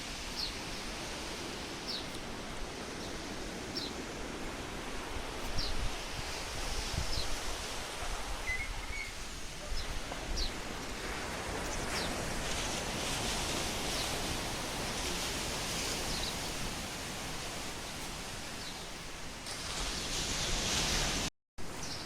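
Sea waves wash against the shore beside Kunkeshwar temple on the Konkan coast, a steady, dense broadband surf roar that continues without pause.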